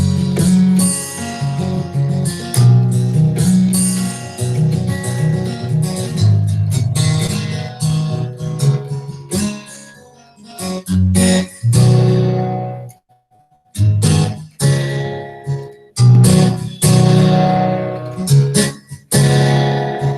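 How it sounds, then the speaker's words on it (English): An acoustic guitar plays strummed chords and picked notes for about twenty seconds, with a few brief pauses between phrases. "So that is the sound of a guitar."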